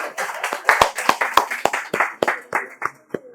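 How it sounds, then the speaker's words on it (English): Applause from a lecture audience: scattered, fairly close hand claps in an uneven rhythm, tapering off over a few seconds, with faint murmuring underneath. "So we should all clap for ourselves."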